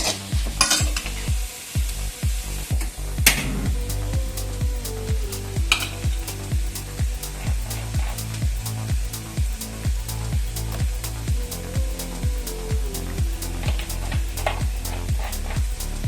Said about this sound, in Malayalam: അപ്പോൾ ഈ കൂടെ അടുപ്പിൽ തേങ്ങ കൂടി വറുത്തരക്കാം.